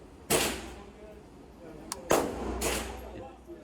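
Slow-fire shots from an AR-15 rifle at a 25-yard range: two sharp, loud cracks a couple of seconds apart, each trailing into a rolling echo, with a small click between them.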